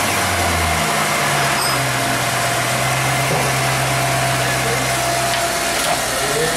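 Automatic transmission car engine starting and then idling steadily during a gearbox oil flush in a workshop, a low continuous hum with mechanical ticking throughout, close and fairly loud.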